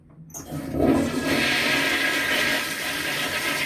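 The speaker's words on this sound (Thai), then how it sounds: "อันนี้ก็กด ให้น้ำพุ่ง" A toilet flushing in a hotel bathroom at Hotel Nikko Narita in Narita, Japan, starting with a button press and then a sustained rush of water, close and loud, with no talking.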